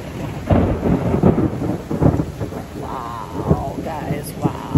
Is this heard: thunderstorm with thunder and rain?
yes